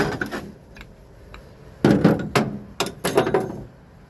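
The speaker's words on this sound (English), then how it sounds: "So we're going to take that off with old chisel and hammer." Several sharp metallic strikes of a hammer driving a chisel to remove a part from a Westcoaster vehicle, in two quick clusters after a quiet stretch, close and fairly loud.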